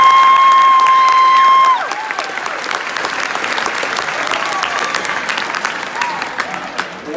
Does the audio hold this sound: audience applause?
yes